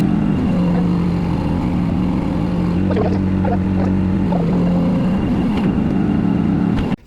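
The engine of a cherry picker machine drones loud and steady nearby as it is moved, a constant low rumble with faint clanks in the middle, cutting off abruptly at the end.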